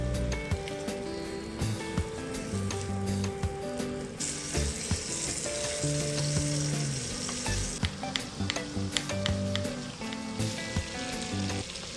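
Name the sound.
chicken breasts frying in oil in a pan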